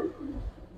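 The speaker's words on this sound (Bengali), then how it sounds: "ময়ূরপঙ্খী ভাই, ফ্যান্টেল কবুতর।" A fantail pigeon at a pigeon farm gives a soft, low cooing, faint and brief, rising and falling in a short murmur close by.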